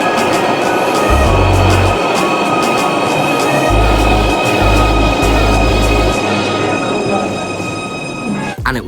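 A Merseyrail Class 777 electric train running, with a loud, steady rumble and a drone from below, deep pulsing surges and faint high whines from the motors, heard close up from inside the carriage.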